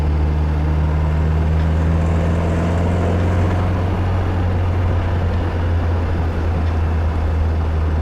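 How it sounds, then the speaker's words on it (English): A restored 1962 Triumph TR4 engine revs freely, a loud, steady drone with low harmonic tones that rise and settle through the run, sounding close and continuous with no talk over it. "The engine has great torque, and as you can see, it revs very freely."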